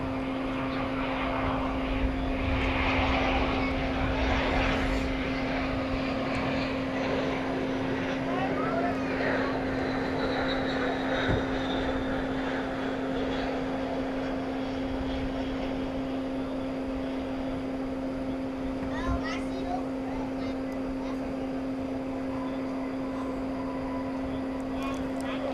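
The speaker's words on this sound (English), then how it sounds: "American 2314 from Pensacola, Florida, an Airbus A319." An American Airlines Airbus A319 arriving from Pensacola lands at DFW in the evening, its steady jet engine roar sustained and fairly loud throughout, with a constant tonal hum running underneath.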